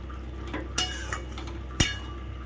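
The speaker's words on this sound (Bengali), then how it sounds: "এটাকে মিডিয়াম ফ্লেম করে দাও দিয়ে এটাকে একটু নেড়ে নাও ভালো করে" Poppy seed and white sesame paste being stirred in a pan over a medium flame, with soft scraping, a few sharp clinks of a utensil against the pan, and a low steady background hum.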